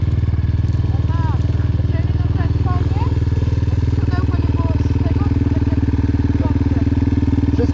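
A 250cc Yamaha motorcycle pulls a wheelie, its engine droning steadily and loudly at close range, a constant buzzing thrum throughout, with people talking over it.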